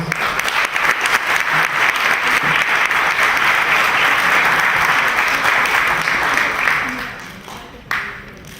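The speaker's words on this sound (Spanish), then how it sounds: "los vamos a recibir también con calurosísimos aplausos" Warm audience applause welcomes a pair of Argentine folk performers at a book presentation event. The clapping is dense and sustained, then fades out, with a few voices underneath.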